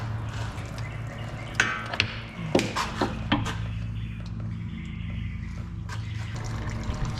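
Transmission fluid draining from a Mazda 3 transaxle after CV axle removal, a steady close trickle of liquid with a few sharper drips and clanks standing out over a low background hum.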